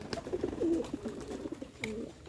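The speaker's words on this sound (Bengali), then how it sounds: "আর এই দেখুন কবুতরগুলো খাবার খাওয়ার জন্য অনেক উড়ারি করতেছে" Pigeons coo softly amid faint wing flutters and rustling as they crowd eagerly for food, a low, fairly quiet jumble of calls with no speech.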